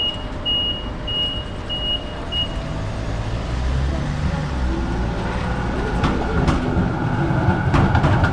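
A tram rumbles past on a street in South Yarra, Melbourne, with a steady low roar and rattling, while a repeating high electronic beep sounds briefly at the start.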